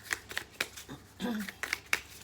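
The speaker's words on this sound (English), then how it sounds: "Shuffle 3 more times." Tarot cards are shuffled close up in short, quick riffling bursts, separated by brief pauses, with a faint low murmur in between.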